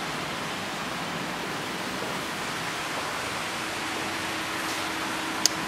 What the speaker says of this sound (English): you can turn off the waterfall separately